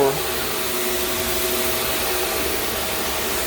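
A Powr-Flite Elite CRB carpet cleaning machine runs steadily in an office, a constant whirring motor hum with a steady airy whine and no break in its drone.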